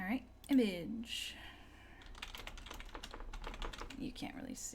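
Computer keyboard typing comes in quick irregular bursts of close clicks, with a voice talking over and between them.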